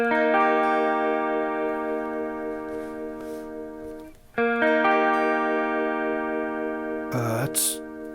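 Sustained electric guitar chords with wavering, shimmering tremolo and chorus effects, briefly cut off near the middle and then resumed, ending with a short noisy burst.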